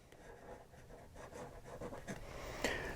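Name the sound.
Conway Stewart 58 fountain pen writing on paper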